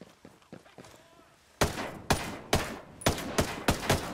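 Gunfire in the tactical shooter Ghost Recon: Breakpoint: a burst of sharp, loud shots after quieter distant pops, firing in an uneven rhythm of roughly seven or eight blasts, each with a short echoing tail.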